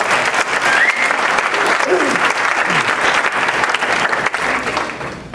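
Comedy club audience applauding for Carolyn Beers, a sustained, dense wash of clapping that holds steady at close range before tapering slightly near the end, with a few voices calling out underneath.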